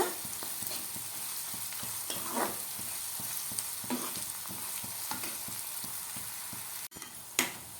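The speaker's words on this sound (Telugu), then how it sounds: "అల్లం వెల్లుల్లి ఆయిల్లో ఫ్రై అవ్వాలి" Ginger and garlic fry in oil for a Godavari-style country chicken curry, giving an even close sizzle with soft, regular stirring taps throughout and a clunk near the end; nobody speaks.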